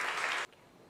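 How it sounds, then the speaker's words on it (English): Morning church audience applauds a welcomed poetry guest, a dense burst of clapping that cuts off abruptly halfway through, leaving quiet room tone. "let's give them a round of applause as they join us this morning"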